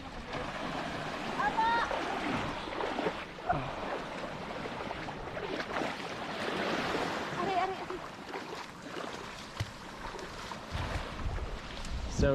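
Small waves break over a sandbar off a clear-water island beach in Zambales, Philippines, a continuous washing rush with gentle surges, mixed with wind noise.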